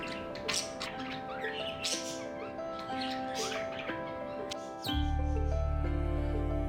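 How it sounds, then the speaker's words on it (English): Several short chirps and squawks from a budgie come through over the first five seconds, close and fairly clear. A steady low hum then sets in and carries on to the end. "every chance he gets, he comes and chirps for her and wants to stay with her"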